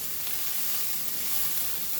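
Aromatics sizzling steadily in a pan as the base of a pasta sauce, a dense continuous hiss, close and even throughout.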